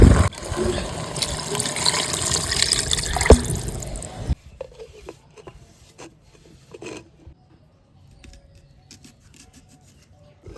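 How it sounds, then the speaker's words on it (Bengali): Water is poured into a pot of chicken cooking with green chillies for handi chicken: a loud, rushing splash and sizzle for about four seconds, then quiet bubbling and a few faint clinks. "একটু নেড়ে চেড়ে জল দিয়ে ঢাকা দিয়ে দেবো।"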